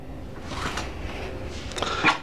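A closet door in a Carnival Magic cruise ship cabin opens with soft handling knocks, a short slide and a light clack near the end. It is close and quiet, with no speech.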